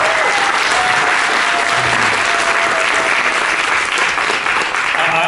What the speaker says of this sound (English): I think you should just give them a round of applause for it.